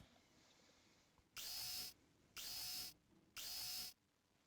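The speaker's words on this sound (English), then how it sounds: "Let's drill it full of holes." Drill boring holes into a pipe in a basement in the Deponia video game, three evenly spaced high whirring bursts of about half a second each, fairly loud over a quiet background.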